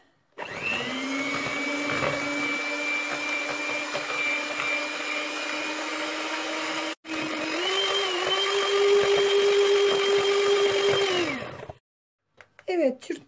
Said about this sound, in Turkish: Çırpmaya tekrar devam ediyoruz.